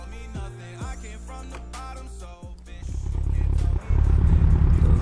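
In Euro Truck Simulator 2, a buzzy engine climbs steadily in pitch and loudness like a revving motorcycle, after a few short mechanical sweeps and thumps.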